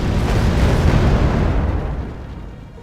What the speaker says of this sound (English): and they're bombing some more